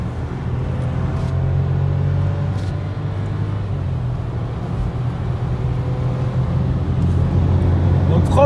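Volkswagen Polo 6 with a 1.0 TSI 95 hp engine pulling hard at full throttle, heard from inside the cabin as a steady low drone and rumble that holds loud and close throughout.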